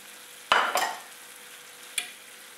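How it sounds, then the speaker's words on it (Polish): Button mushrooms, corn and chopped parsley cooking in a frying pan, with a few sharp stirring scrapes and clatters over a faint, low sizzle. "I jeszcze kilka minut wszystko razem smażę."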